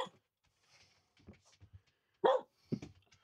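A dog barks in short bursts at feeding time in an RV, a few sharp barks and yips separated by quiet gaps, fairly close to the microphone.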